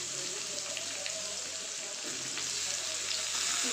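Jackfruit seeds frying in a pan give a steady, quiet sizzle with faint crackles and pops, continuous throughout with no talking.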